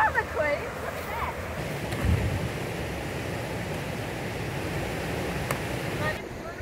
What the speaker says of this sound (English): It's cold, that wind blowing down here, eh?